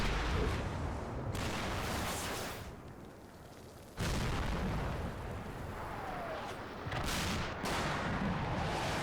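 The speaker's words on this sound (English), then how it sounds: "Okay, fairly ineffectual artillery." Artillery fire in the wartime game Combat Mission: Battle for Normandy, a few heavy booming blasts with rumbling aftermath, sharp onsets near the start, middle and end, fairly distant.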